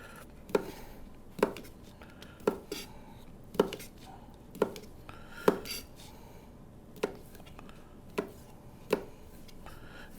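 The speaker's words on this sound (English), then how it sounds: "I'm just slicing it 3/8, ½ inch, whatever." A knife slices through a sausage on a cutting board, about ten crisp, evenly spaced chops landing close and clear, with nobody speaking over them.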